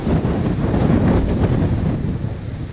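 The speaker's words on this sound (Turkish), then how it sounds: "Fırtınadayız." Stormy wind at Key West during a hurricane, roaring steadily and loudly against the microphone with a broad, buffeting rush and no speech.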